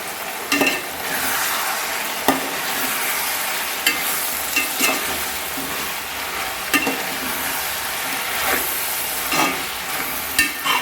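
Tomatoes frying in oil in a pan for a chicken curry, a steady soft sizzle with occasional scraping stirs of a spoon at irregular intervals, close and continuous with no talking.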